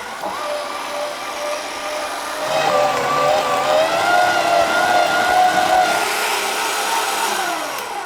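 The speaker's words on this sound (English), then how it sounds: "Paua goes in, the kickstart on this one. So we got to fire up the old Kenwood." An old Kenwood food processor that once belonged to a grandmother mincing paua, a steady motor whine that grows louder and harsher partway through and then holds a continuous droning pitch until the end.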